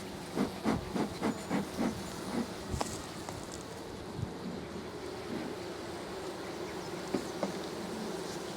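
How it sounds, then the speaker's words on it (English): Honey bees buzz steadily around an opened beehive, a continuous close hum with a few sharp taps and knocks near the start. "Okay, this is the Monty hive."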